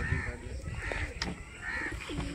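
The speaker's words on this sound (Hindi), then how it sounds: "बरहल कबूतर बहुत अच्छा है।" Golden pigeons coo in soft, repeated phrases close by, with steady background noise and no speech over them.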